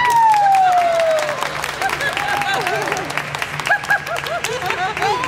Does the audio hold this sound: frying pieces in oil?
no